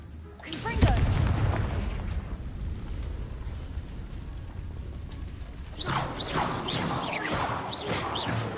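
A Confringo blasting curse in Hogwarts Legacy bursts with a loud explosive boom, rumbling debris fading out, then a second burst of crackling magical impacts several seconds later.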